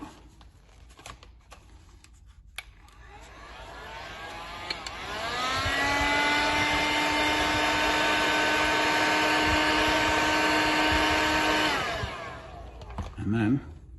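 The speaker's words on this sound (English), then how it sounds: "I just get the heat gun on it and dry it out" A heat gun blowing on stone to dry it out after hand burnishing: quiet handling first, then a steady whining motor with a tonal hum runs for about six seconds before switching off, followed by soft clatter.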